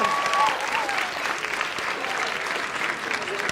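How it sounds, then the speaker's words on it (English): An audience claps together for a woman called up on stage at a museum date-night event, a dense, steady round of applause lasting several seconds with no break. "Let's give her a round of applause."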